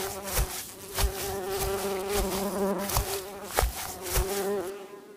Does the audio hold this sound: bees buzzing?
yes